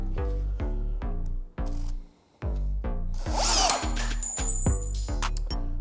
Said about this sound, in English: this is size Q drill bit. We're gonna drill these out on both sides